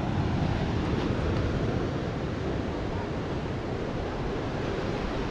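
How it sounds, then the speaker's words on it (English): Ocean waves crashing on the shore at Laguna Beach in Southern California, a constant loud roar of surf mixed with wind rumble, with no clear breaks between waves. "those waves are getting huge"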